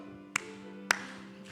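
Worshippers at a Korean Sunday service clap along while singing hymn 265: two sharp, spaced claps stand out over sustained singing and accompaniment.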